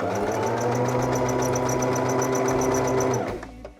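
A sewing machine stitches a seam in steady, fast rhythmic bursts, loud and close, then stops abruptly near the end.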